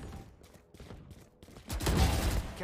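Rapid gunfire sounds during running in a first-person shooter, with quick clipped shots and footstep-like patter, swelling into a louder dense burst of fire near the end.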